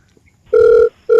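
A phone rings with an incoming call, sounding as loud, steady electronic tone bursts, one long ring followed by the start of another after a short gap.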